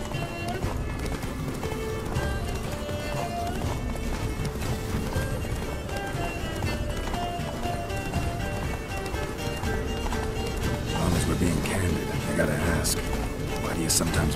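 Roach, the horse in The Witcher 3, gallops in a steady rapid clip-clop of hooves that runs the whole way through, with an occasional whinny and game music and voices talking over the hoofbeats.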